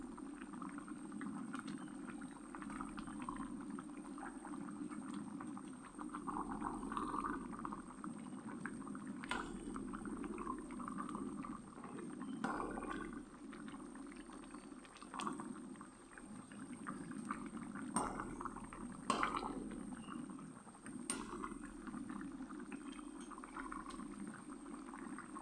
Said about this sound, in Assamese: এইখিনি এতিয়া অলপ উতলিবলৈ দিম